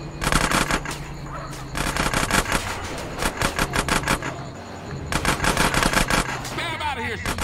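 Rapid automatic gunfire in GTA San Andreas, long loud bursts of fast repeated shots in several volleys, with car engine noise and voices talking over the action.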